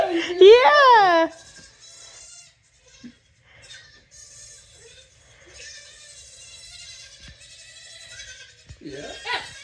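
A parrot imitating a baby goat, producing a loud, wavering bleat at the start, followed by quieter chirps and squeaky vocal sounds over the remaining seconds.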